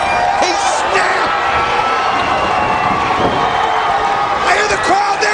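A wrestling arena crowd roars and cheers continuously at a TNA event, loud and steady throughout, with shouts and claps rising in bursts near the start and end.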